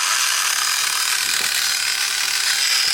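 An Adams Swirl Killer Pro micro polisher runs steadily, giving off a dense, continuous high-pitched mechanical whir with a fine buzzing texture, close and fairly loud, with no talking.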